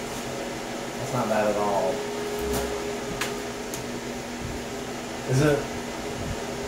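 Steady broadband airflow from a Terra Bloom 8-inch fan blowing air, a constant close whoosh running under a person talking throughout.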